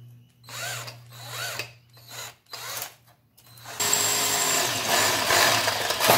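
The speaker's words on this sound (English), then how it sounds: "1/4 inch drill bit." Power drill with a 1/4 inch bit, several short close whirring bursts with pauses, then a sustained louder grinding drill run through the workpiece.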